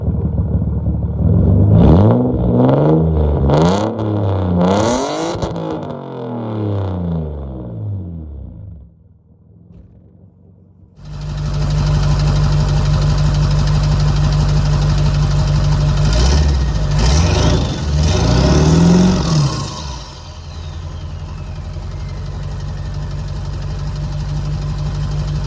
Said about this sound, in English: So here's the exhaust clips.